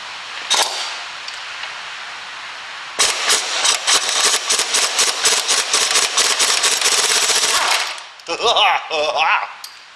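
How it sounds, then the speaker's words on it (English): An air impact wrench works on the steering track rod end of a Land Rover Defender Series 3. Loud, close bursts of rapid hammering rattle for several seconds after a short first blip, ending with metallic clatter. "So we can actually sit that on there properly and still get the air gun on it."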